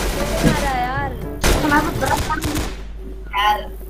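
Bursts of gunfire from the online shooter game Arsenal ring out in quick volleys, loud and close, with a player speaking over parts of the action.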